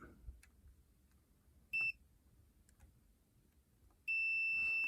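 Sharp electronic beeps from a Sega Saturn console during a switchless multi-region and 50/60 Hz modification test: one short beep, then a longer sustained tone at the end, over a quiet background.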